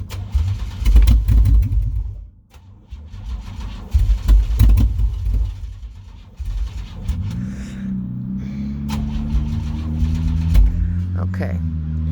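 A Chevy Sierra truck engine being coaxed to idle runs roughly, with loud low rumbling bursts and revs, then settles into a steadier hum later on, while people talk nearby.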